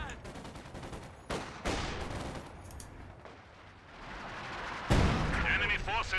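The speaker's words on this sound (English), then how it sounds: "Maybe it was this barrage almost took down those obers, but they survive." An artillery barrage in Company of Heroes 2, with rolling booms and crackling gunfire layered under continuous battle noise, one heavy blast landing near the end.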